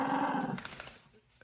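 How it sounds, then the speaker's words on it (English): Rambunctious dogs let out a close, brief burst of growling that fades into a few fainter sounds. "Those dogs are pretty rambunctious."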